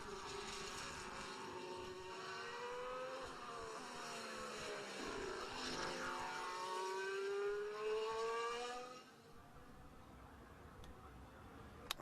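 A Formula 1 car on track during qualifying at the 2024 Shanghai Grand Prix howls past with a high engine whine that rises in pitch as it accelerates, then fades quickly, leaving quiet near the end.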